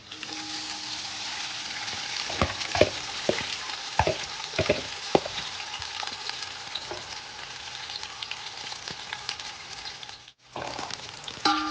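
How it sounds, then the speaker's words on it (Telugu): Sliced onions deep frying in about a quarter kilo of hot oil for chicken biryani, a steady loud crackling sizzle running throughout with a few sharper pops and a brief dip in the noise near the end. "ఈ ఆనియన్స్ని డీప్ ఫ్రై చేద్దాం."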